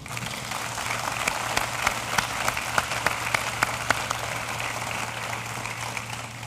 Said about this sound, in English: Please give a round of applause to the Buffalo Wind Symphony under the direction of Amy Steiner